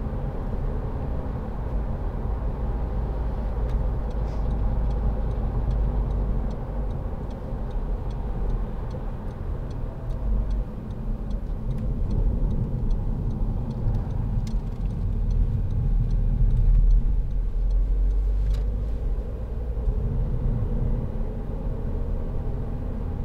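A 2010 SEAT Leon 2.0 TD FR diesel hatchback cruises along a country lane, its cabin filled with a steady low engine and road drone that swells slightly in places, with light ticking on top.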